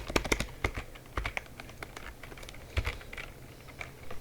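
Rapid keystrokes clatter on a computer keyboard, a quick irregular run of sharp clicks and taps at close range, fairly faint with no voices.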